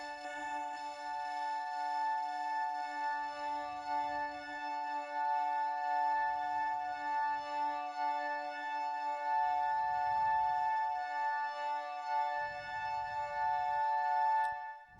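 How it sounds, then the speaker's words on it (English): A synthesized sound passes through a resonator effect, moving from dry to wet and taking on a violin-like overtone. A sustained, bright, ringing harmonic tone holds throughout, over soft low thumps that recur in slow pulses. "I really like this resonator effect. You can choose what kind of overtone you want. So starts completely dry and then becomes more and more wet."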